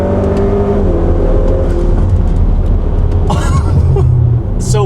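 A hybrid-turbo Honda Accord making about 400 hp pulls hard in fourth gear, its loud steady engine drone and whir filling the cabin. A voice can be heard briefly over it.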